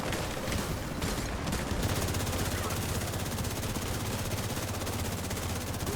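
Rapid automatic gunfire from an assault rifle in the video game The Division 2, a dense, continuous burst of shots running the whole time at steady loudness, with no talk over it.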